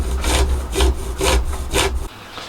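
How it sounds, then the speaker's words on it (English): A hacksaw cuts through the end of a plastic window blind bottom rail in four quick back-and-forth strokes, close and rasping, ending abruptly as the piece comes free. "Just going to hacksaw the end off"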